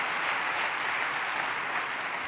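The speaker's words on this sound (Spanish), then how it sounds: "Pido otro aplauso porque este palmarés es interminable y merecido desde luego de este aplauso" An audience at a business excellence forum applauds Manolo Sanchís with steady, dense clapping, a continuous even wash of many hands at moderate volume and no talking.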